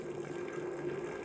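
In the GTA V video game, gasoline pours from a gas can onto the ground. A faint, steady liquid trickle and gush runs briefly with no talking.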